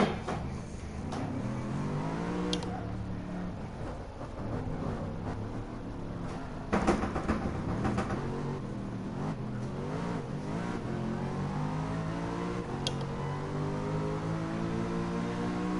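Race car engine in Gran Turismo Sport, a steady loud drone with rising and falling pitch as it revs through gears, continuous throughout with a few sharp shifts, no talk.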